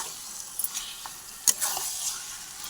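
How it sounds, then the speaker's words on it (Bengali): Mutton masala with tomato being sautéed in a pan for a Sunday mutton curry, giving a soft, low sizzle with a few clinking spoon strokes against the pan and a brief louder scrape near the middle. "মশলাটার সঙ্গে এখানে একটা টমেটো দিয়ে দিলাম তারপর ভালো করে কষে নিচ্ছি"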